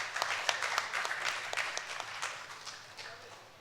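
Audience applause at a Tamil stage debate event, a scattered spread of claps that fades gradually toward the end, moderately distant.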